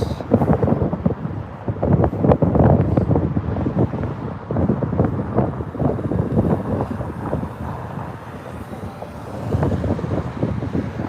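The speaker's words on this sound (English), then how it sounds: "Bit windy today, guys, apologies." Constant buffeting wind noise rumbles across the microphone at London Heathrow Airport, loud and low, with gusty swells and no clear voices.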